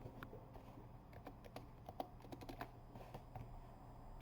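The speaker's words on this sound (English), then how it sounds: "the way we do that, we just type reboot" Keys are tapped on a computer keyboard to enter a reboot command at a VMware ESXi host's command line, a quiet run of light, irregular clicks close by with no talking.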